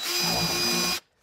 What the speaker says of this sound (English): Never want to get your drill bit hot.